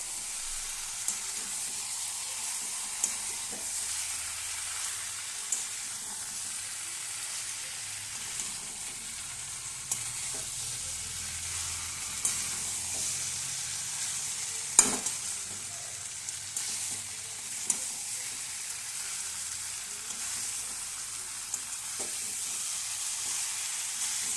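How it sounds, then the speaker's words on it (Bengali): Potatoes and turmeric-salted chicken fry over a low-to-medium gas flame with a steady, even sizzle, broken by occasional soft clicks of a stirring utensil against the pan. No talking. "এবার গ্যাসের ফ্লেমটা লো টু মিডিয়ামে রেখে ভালো করে নাড়াচাড়া করে নেবো"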